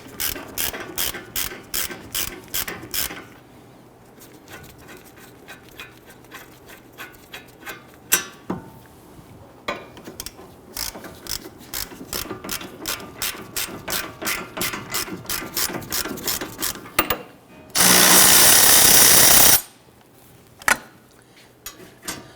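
A ratchet clicks rapidly in repeated bursts while loosening a lower brake caliper bolt on a Dodge Charger, with brief pauses between runs and a loud hissing burst near the end.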